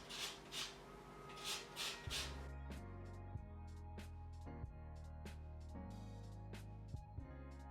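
A lemon is zested against a grater for a vegan West African puff puff recipe, giving about five close, quick rasping strokes before the scraping gives way to steady background music.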